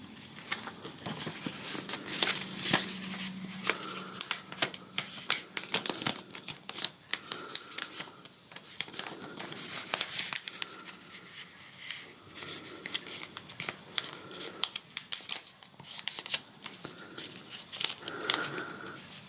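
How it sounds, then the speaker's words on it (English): A sheet of paper is folded into four equal pieces at close range, giving continuous rustling, crinkling and creasing sounds with occasional sharper flaps, and no speech. "Keeping the paper folded in the same way, then fold it into 4 equal pieces."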